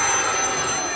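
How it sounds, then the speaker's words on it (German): A phone rings on stage during a live Heavysaurus children's metal show in Leipzig at Hellraiser, a bright, steady electronic ring filling the brief moment with no talk over it. "Ah, Kinder, ist das euer Telefon?"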